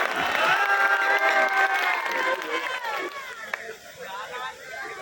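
A village crowd claps loudly for the event organiser at a local program, with cheering and babbling voices mixed in; the applause swells early, then thins and tapers off.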